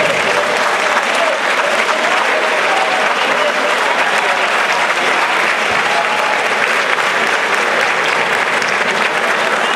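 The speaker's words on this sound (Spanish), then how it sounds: "Creo que merece un aplauso, Ulises." An audience at a Cuban competition awards ceremony applauds continuously, a loud, dense, unbroken roar of clapping sustained for about ten seconds.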